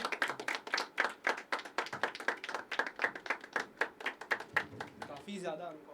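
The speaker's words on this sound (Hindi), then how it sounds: "जोरदार तालियां" A poetry open mic audience claps for the next performer, the claps loud and rhythmic at a rather even pace, as in a chanted cheer, and fading out near the end as a voice begins.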